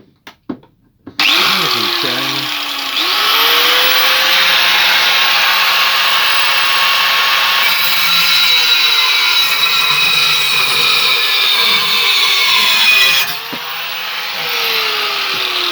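An old angle grinder with replaced brushes and a faulty switch cuts through an M2 high-speed steel saw blade, a loud, steady high-pitched whine and rasp that runs nearly continuously close by, stopping briefly and then restarting.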